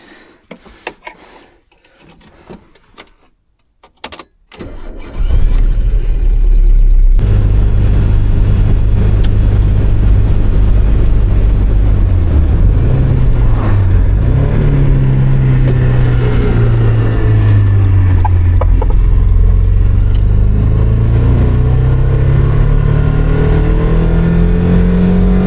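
A Mazda Miata engine cranks over after a few seconds of handling noise, fires up and settles into a steady drone, then climbs slowly through rising revs and gear changes as the car gets under way, loud and close.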